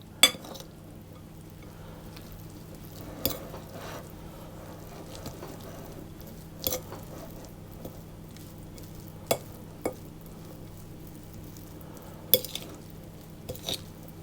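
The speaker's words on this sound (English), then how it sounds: "I'm going to mix it around again" Beaten egg being stirred in a bowl for a cheese and onion pie, a quiet close sequence of soft scraping swirls punctuated by about eight sharp clinks of utensil against the bowl at irregular intervals.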